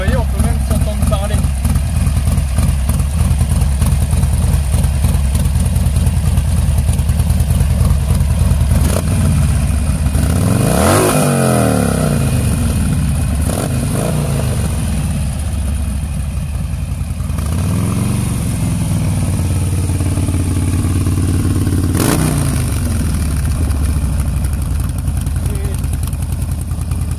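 A Harley-Davidson Sportster Scrambler motorcycle idles steadily with its idle lowered to about 900 rpm, a continuous close engine rumble with a couple of brief rev swells while someone talks over it.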